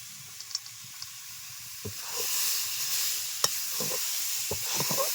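Cashew nuts stirred into carrot halwa in a pan, with a soft hiss of steam and sizzle rising midway and a few faint scrapes and taps of the spoon, quiet and close.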